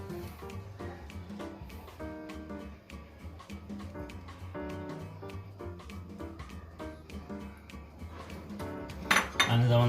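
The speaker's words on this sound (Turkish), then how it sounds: "Şimdi patatesimizi ekliyoruz." Potatoes go into pots of water on a stove, with pots and utensils clinking and clattering repeatedly over background music, ending in a louder metallic knock.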